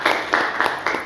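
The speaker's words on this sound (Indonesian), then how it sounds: "Kita berikan tepuk tangan" Short bursts of audience clapping in a campus hall during an anti-corruption outreach session, four quick swells of applause in a little over a second, fairly loud and close.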